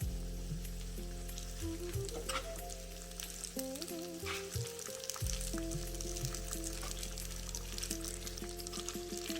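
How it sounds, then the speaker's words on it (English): Groundnuts fry in a pan of tadka for a spinach dal dish, a steady close sizzle with bubbling crackle and occasional stirring scrapes, continuous throughout with a low hum beneath. "We need to add half a ball of groundnuts, mix them well, and let them fry."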